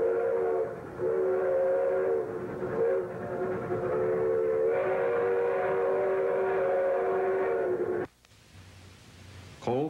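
A steam train runs on the mountain line of the Rio Grande Southern railway in Colorado, with a helper engine, at Mesa. A long, loud, steady whistle holds for several seconds over the rumble of the train, then cuts off into quieter rolling noise.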